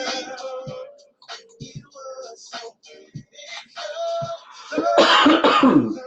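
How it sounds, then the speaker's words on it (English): A string of short, dry coughs and throat-clearing bursts, ending in a louder harsh fit of coughing, close up. "I can't get rid of my dry cough."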